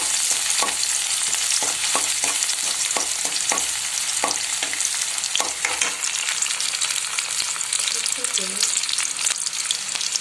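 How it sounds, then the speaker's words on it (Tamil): Onions fry in hot oil in a pan for chicken fried rice, a loud, continuous close sizzle with occasional clicks and scrapes of stirring throughout, and no talking. "இப்போ எண்ணெய் காஞ்சிருச்சு, ஃபர்ஸ்ட் வெங்காயம் சேர்த்துக்கலாம்."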